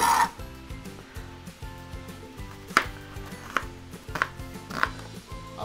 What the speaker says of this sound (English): I'm gonna chop up a couple onions.